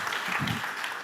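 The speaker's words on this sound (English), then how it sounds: "At least now we get applause." Conference audience applause, a short burst of dense, steady hand clapping at moderate loudness.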